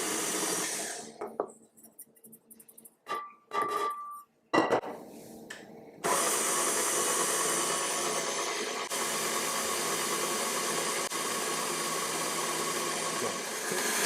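An electric mixer creams sugar into cake batter, running as a steady loud whir for most of the stretch after a few short starts and clinks.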